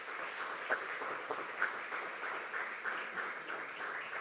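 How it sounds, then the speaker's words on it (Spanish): A church congregation applauds during a Spanish-language sermon, a steady wash of mid-distance clapping that holds for several seconds with a few sharper claps standing out. "Denle un aplauso, Señor."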